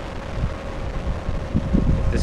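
Steady outdoor wind buffets the microphone at an open flying field with a south breeze, giving a constant loud rumble with gusty swells and no clear speech.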